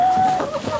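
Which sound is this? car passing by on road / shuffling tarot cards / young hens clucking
young hens clucking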